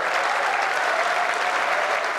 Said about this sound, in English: The other moment of big applause at WWDC was the unveiling of the new Mac Pro Tower